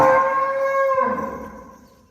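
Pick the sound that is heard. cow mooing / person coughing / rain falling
cow mooing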